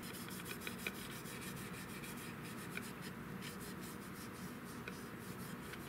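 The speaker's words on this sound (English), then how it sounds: "We're wiping off the excess, most of the black paint." A rag dampened with paint thinner wipes black paint off a 16-gauge European Guild shotgun, making a faint, soft rubbing hiss in steady, continuous strokes close by.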